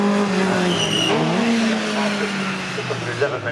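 Classic Clubmans race cars at Cadwell Park, engines droning loudly with shifting pitch as they sweep past, a commentator talking over the racing throughout.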